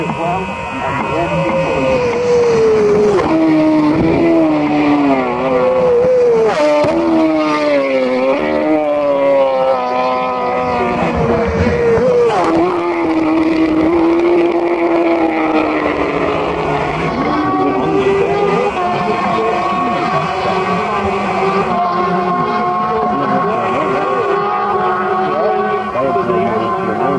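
Superbikes racing at the Isle of Man TT on the road course, loud engines climbing and falling in pitch as machines scream past one after another, with commentary talk over them.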